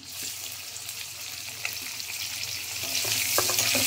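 Onion sizzles in hot oil for a winter radish-pod dish, a steady close frying hiss with occasional stirring taps that grows slightly louder toward the end, with no speech.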